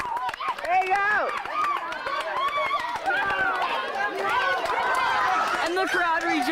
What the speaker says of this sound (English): And the crowd rejoices.